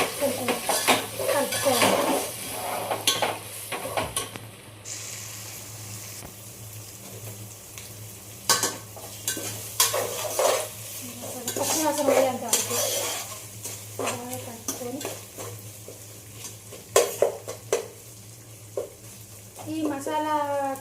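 Masala paste for fish curry is stirred in a pan on low heat, with a steady sizzle and frying under repeated scraping and clinks of a spoon against the metal pan.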